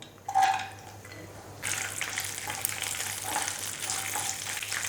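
About two tablespoons of ghee heat in a pan for sakkarai pongal. A brief clatter comes first, then a steady, close sizzle takes over and runs on evenly.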